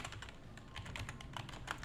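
Quiet, steady typing on a computer keyboard, with rapid irregular key clicks running throughout and no voices.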